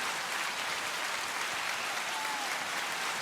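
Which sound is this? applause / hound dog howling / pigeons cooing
applause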